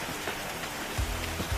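Steady rain patters on a surface, a dense continuous hiss with a few heavier drops, moderately loud and close with no talk.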